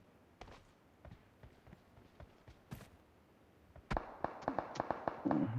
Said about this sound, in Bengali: সি বিল্ডিং থেকে ফায়ার আসে, সি বিল্ডিং থেকে।